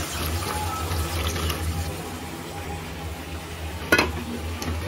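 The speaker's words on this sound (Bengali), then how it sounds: "গ্যাসটা বাড়িয়ে দিলাম, জলটা একটু টানিয়ে দিই" Curry gravy simmers in a pan on a gas stove with the flame turned up, giving a low steady bubbling hiss, plus a brief clatter near the end.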